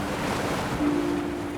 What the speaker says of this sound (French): Fleur Austral surfe sur les vagues mouvementées